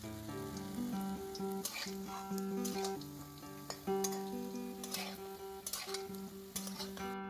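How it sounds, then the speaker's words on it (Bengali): Raw banana pakoras deep frying in oil, a soft continuous sizzle with occasional clinks and crackles, quiet and close, against a steady background tonal hum, no talk. "নিজের ইচ্ছে মতো আকারে পকোড়াগুলো ভেজে নিলাম"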